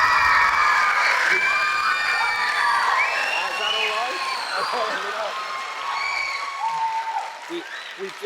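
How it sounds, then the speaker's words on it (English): Students at a school assembly cheer, whoop and applaud in a loud, sustained crowd roar, with children's shouts rising over it and an adult voice speaking briefly through the noise. "If you keep cheering, I'll talk all day"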